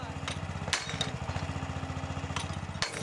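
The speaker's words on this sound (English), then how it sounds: "We've got this drilling equipment brought in, percussive drilling equipment." Percussive drilling equipment hammers in a rapid, continuous mechanical rhythm on an archaeological dig at a medieval castle site in Bridgnorth, loud and close, with a few brief sharp knocks over it.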